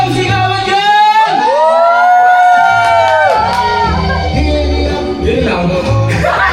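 A Christmas party crowd shouting, whooping and cheering loudly up close, with rising drawn-out yells from several people and a brief stretch of chatter near the end.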